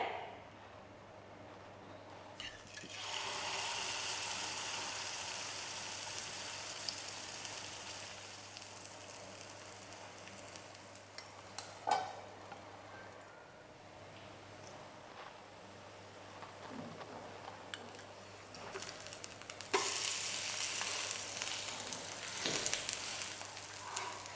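Cabbage pancake frying in oil in a pan, a soft continuous sizzle with occasional louder crackles and clatters from handling, heard alone without talk.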